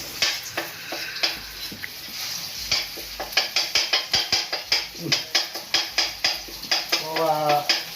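Southern Thai curry paste stir-fried in a hot wok, a steady sizzle broken by repeated rhythmic scraping strokes of a spatula against the pan, close and fairly loud throughout.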